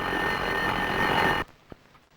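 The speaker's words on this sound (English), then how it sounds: "His alarm clock never seems to work too well. It only goes off once every morning." An alarm clock rings loudly and continuously in a bedroom, a bright steady bell that cuts off abruptly, followed by a brief quiet clunk and near silence.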